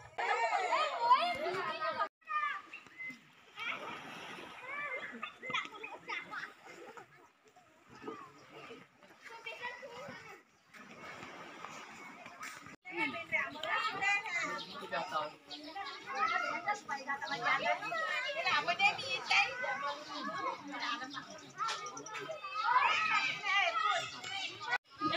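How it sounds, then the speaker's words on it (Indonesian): Children play and chatter at Batalo Mampu beach, their high voices near and busy with steady talk and shouting throughout and brief lulls, an outdoor seaside bustle. "Suasana pantai di Batalo Mampu ya."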